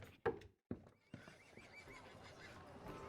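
A horse in the post-apocalyptic Australian video game Repella Fella gives a short, loud neigh, then comes a pause and a thump. Hoof clops and a quieter whinny follow, with faint background noise.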